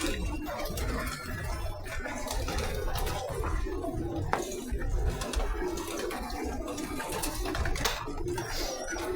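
Pigeons cooing at a crowded pigeon farm in Saudi Arabia, a dense steady murmur of many birds with flapping and clinking noises, continuous and fairly loud throughout.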